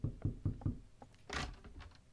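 Four evenly spaced knocks on a door sound in the horror game Doors, followed by a few softer taps and a brief noisy rustle, with no voices.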